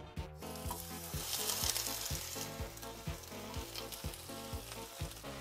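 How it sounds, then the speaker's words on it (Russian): Pork ribs frying in batches in well-heated oil, a steady sizzle with regular rhythmic thumps from stirring or placing pieces in the pan, close and moderately loud, no talking. "Я беру какую-то часть свиняки и выкладываю сюда. Будем жарить несколькими партиями."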